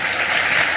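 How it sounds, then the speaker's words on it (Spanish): Brief burst of applause from an audience at a Colombian government event on broadband connectivity, steady and dense throughout without any talk. "Un fuerte aplauso, por favor."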